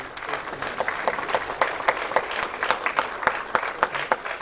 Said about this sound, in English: Please join me in welcoming him with a resounding round of applause.